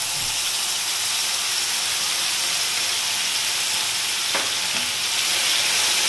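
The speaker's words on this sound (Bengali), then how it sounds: "এবার একটু এটা কষিয়ে নেব, হালকা ভেজে নেব।" Onion and garlic paste fries in oil with dried chillies and panch phoron for a homemade fish curry, giving a steady, loud, close sizzle and hiss throughout, with one brief scrape of a spatula partway through.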